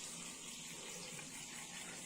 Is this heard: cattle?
no